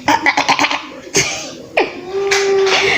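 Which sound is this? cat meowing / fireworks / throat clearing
throat clearing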